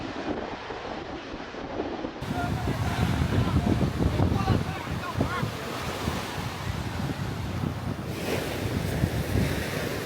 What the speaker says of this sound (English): there are actually waves in this thing because it's so big that it acts like a little ocean